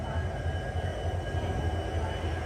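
An express train pulls out of Hospet Junction, a low continuous rumble of rolling wheels with a rhythmic throb underneath and a broad steady hiss, heard from on board without voices.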